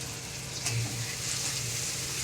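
Spice paste of turmeric and chili powder with a splash of water fries in a pan for chicken curry, giving a steady close sizzle with a brief scrape partway through.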